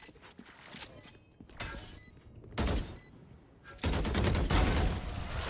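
Gunfire from the Kuronami Vandal rifle in the video game Valorant, with loud bursts of automatic fire clustered in the second half and lighter mechanical clicks before them, with no talking.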